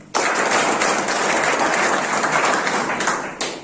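A burst of loud audience clapping at a business plan presentation starts abruptly and stays dense and even before easing near the end, with a brief fresh swell just at the close.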